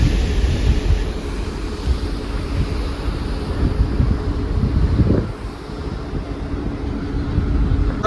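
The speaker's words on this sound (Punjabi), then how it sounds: "ਬਹੁਤ ਜ਼ਿਆਦਾ ਤੇਜ਼ ਹਵਾ ਚੱਲ ਰਹੀ ਆ" Strong wind roars steadily across the open deck of a cruise ship from Sweden to Finland, buffeting the microphone, with the rush of sea water underneath.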